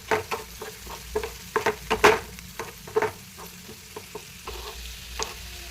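Chopped ivy gourd (dhondakaya) sizzles steadily in a hot pan with a little turmeric, while a spatula scrapes and stirs in repeated close, uneven strokes.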